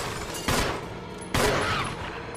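Two loud bursts of gunfire in a video game a little under a second apart, each ringing out and decaying over steady background noise.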